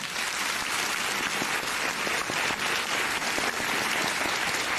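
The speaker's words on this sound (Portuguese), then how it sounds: "vamos aplaudi-la" A crowd at a gaming event applauds steadily and loudly, a dense, continuous wash of clapping with no pauses.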